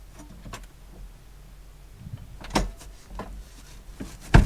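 A VW campervan seat being swivelled around in the cab gives a few scattered clunks and soft scraping knocks, with a sharper, louder thump near the end, all close by and with no talking.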